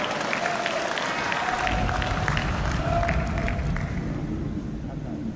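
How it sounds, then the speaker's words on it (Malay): Audience applause during a public speech in Malaysia: a loud, sustained wash of clapping from a large crowd with murmuring voices, gradually easing toward the end. "Itu pun tepuk tangan di atas itu."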